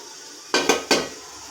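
The lid comes off an idli steamer pot after the steaming is done, making three sharp metallic clanks in quick succession over a quiet background.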